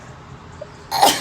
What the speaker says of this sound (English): I have a sneeze coming on